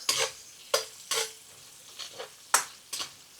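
Garlic stir-fried in a pan for an aubergine chilli oyster sauce dish, with bursts of sizzling as it is pushed around, six or so scraping, hissing strokes at an uneven pace, close and clear with no talk.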